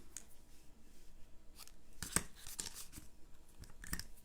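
Scissors trimming the ribbon of a handmade bow for a greeting card, a few quiet snips and paper-like rustles at close range with no talking.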